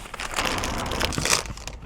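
A bag packed with snack chips rustles and crinkles continuously, close and fairly loud, with no talking over it.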